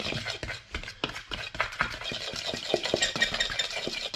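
A spoon stirs corn flour batter in a bowl, scraping and knocking in a steady rhythm at close range, with no voices.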